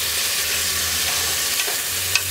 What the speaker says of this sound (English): add the white vinegar